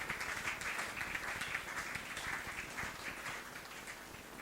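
A church congregation claps together in a dense, steady wash of applause that fills the room for the whole stretch. A voice calls out briefly over the clapping.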